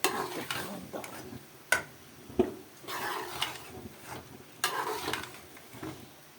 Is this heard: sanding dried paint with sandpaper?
no